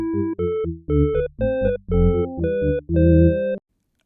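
An organ plays all parts of a Bach variation together, pedals included, in the engraving copy version: a short run of loud, sustained chords with deep pedal notes, close and clear, ending in silence.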